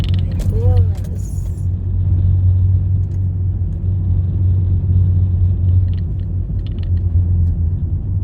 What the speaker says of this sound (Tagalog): Uy, may bus.